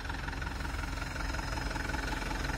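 A Hino Dutro 136 HDX Euro4 diesel truck engine idles, a smooth continuous low rumble with a steady, even throb throughout, close and alone with no voices.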